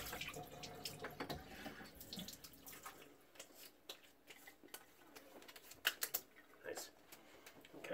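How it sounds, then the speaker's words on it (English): Cold tap water splashed onto a face during a wet shave with grapefruit and menthol soap, heard as soft scattered splashes and drips at close range, with brief faint running-water noise and no talking. "I'm going to just put a little cold water in my face."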